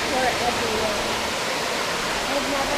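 A steady, dense rush of falling water roars continuously without pause, broad and full, from a waterfall in a deep gorge at Indian Run Falls, Dublin, Ohio, heard from nearby.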